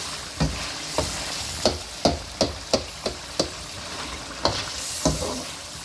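Beef karahi with a spoonful of dried coriander being stirred in a pan, a spoon scraping in a steady series of about a dozen distinct knocks over a continuous hiss of frying oil, close and alone with no talk.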